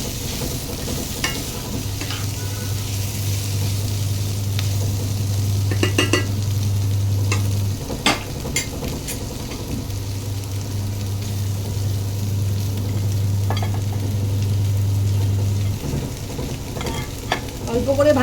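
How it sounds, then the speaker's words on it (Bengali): Cooked basmati rice is stirred and fried in a wok for restaurant-style egg chicken fried rice, with a continuous loud sizzle, repeated scraping stirs and a steady low hum from a burner or exhaust fan. "অল্প করে ভাতটা দেবো আর এটার সঙ্গে মিশিয়ে নেবো। এইভাবে পুরো ভাতটা আস্তে আস্তে এই কড়াইয়ের মধ্যে দিয়ে দেবো।"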